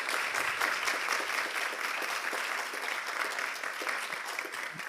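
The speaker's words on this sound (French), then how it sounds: "On peut applaudir très fort nos 3 intervenants" An audience at a French neuroscience session applauds its three speakers, a dense, even wash of many hands clapping that holds steady for several seconds before tapering slightly.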